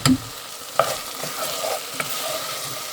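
Okra and spice masala frying in a pan for a Bengali prawn curry, a steady close sizzle broken by a few sharp clinks and scrapes of stirring, with no voices.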